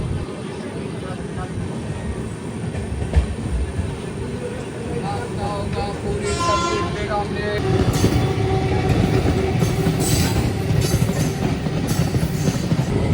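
An Amrit Bharat Express passes through a junction station without stopping, heard as a steady onboard rumble that grows louder and harsher midway, with faint tonal squeals and brief rattles overhead.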